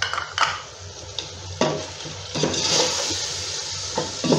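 Bay leaves and cinnamon pieces frying in hot oil: a soft continuous sizzle under several sharp clinks and scrapes of a spoon stirring against the pot, close up with no voices.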